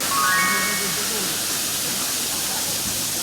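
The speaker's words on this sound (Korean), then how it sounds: "폭포가 이 위에 어디서 만들어져서 내려오는 거지?" A waterfall in Nice, France, pours as a steady, close, broadband rush of falling and splashing water that holds an even loudness throughout.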